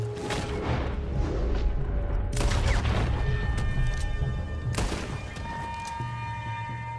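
Rapid gunfire in a Red Dead Redemption 2 shootout during a prison escape, several loud bursts and sharp shots overlapping into a dense fusillade, with heavy booming reports near the middle and end.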